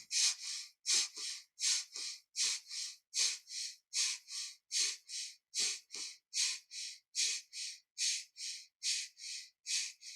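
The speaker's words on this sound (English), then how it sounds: "So you're breathing through the nose and you're exhaling." Rhythmic forceful exhales through the nose in kundalini yoga breathing, about twenty sharp breathy puffs in a steady quick cycle, close and clear with no talking.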